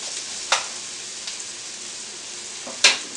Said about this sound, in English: I'm going to keep this on high because I want the onion to brown fast.